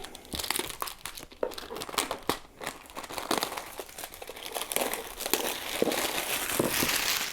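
Packaging for a Horus Heresy Primarch Mortarion miniature is unwrapped close up, giving steady crinkling and crackling of plastic and paper with a few sharper tearing rips.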